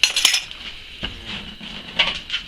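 A spoon stirs cinnamon into sliced apples in a bowl, giving a few bright metallic clinks and scrapes against the dish, close and fairly loud.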